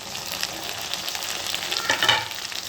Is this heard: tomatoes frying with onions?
yes